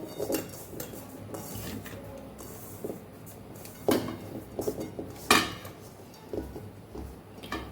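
Mustard, fenugreek and coriander seeds are mixed in a kadai with a spoon, giving soft scraping and a few louder metallic knocks and clatters, nearby and with no speech.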